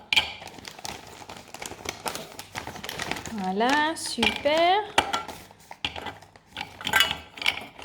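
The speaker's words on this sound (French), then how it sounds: "nous allons couper le chocolat et le mettre dans la casserole" Chocolate being cut and dropped into a saucepan, with a small child helping: close clinks, taps and clatter of utensils and pan scattered throughout, while an adult and someone talk over it.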